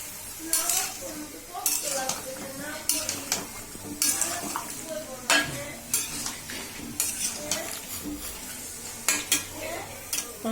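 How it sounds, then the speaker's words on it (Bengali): Boal fish curry is stirred in a sizzling pot, repeated sharp scrapes and clanks of a spoon against the metal recurring every second or so over a soft, constant frying hiss. "তরকারিটা দেওয়া শেষ, একটু নাড়াচাড়া দিই।"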